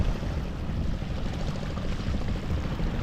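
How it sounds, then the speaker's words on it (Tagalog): Boat engine droning steadily on the Davao River as the craft pushes against a strong current, a continuous low rumble with water wash, fairly close and uninterrupted. "Puro nahirapan yata yung bangka kasi malakas yung ano,"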